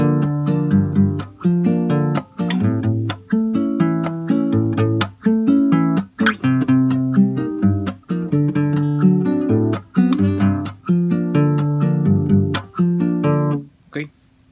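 A guitar plays a slow son cubano accompaniment for a song, with sharp percussive strums and plucked bass notes in a steady syncopated rhythm, loud and close, with no voices.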